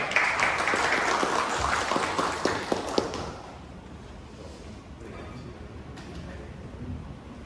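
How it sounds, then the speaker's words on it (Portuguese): An audience claps for about three seconds to welcome a speaker at a corporate leadership event, a brisk burst of applause that dies away into quiet room noise. "Palmas aí para o Jairo, bem-vindo, Jairo."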